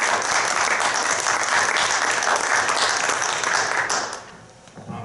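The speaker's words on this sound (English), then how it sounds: "Laura and Kaylee, please give them a round of applause." A round of applause from the audience at a panel event on vaping, dense and steady for about four seconds, then tapering off into a few scattered claps.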